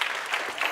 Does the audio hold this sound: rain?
no